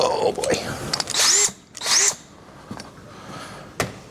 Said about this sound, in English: Now I got a nice little center punched hole here that we'll go ahead and drill through